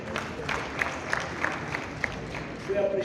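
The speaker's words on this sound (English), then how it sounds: "so please clap for yourselves." A conference audience in a full hotel hall applauds, with moderate clapping and a low crowd murmur. A voice comes in briefly near the end.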